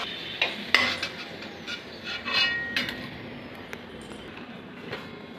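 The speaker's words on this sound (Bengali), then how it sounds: "আলুটা এবার আমি তুলে নিচ্ছি," Fried potatoes are lifted from a pan of hot oil with a metal utensil, giving light clinks and scrapes over a soft, steady sizzle, near and fairly quiet.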